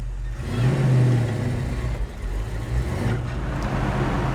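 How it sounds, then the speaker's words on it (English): A 1967 Ford Mustang Fastback pulls away, its engine rumbling up in pitch as it accelerates, loud and close, then settling into a steady driving drone with no talk. "All right, let's drive this baby."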